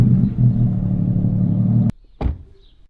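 A Porsche 911 GT3 RS engine rumbles steadily and loudly for almost two seconds, then cuts off abruptly, followed by a brief close rev.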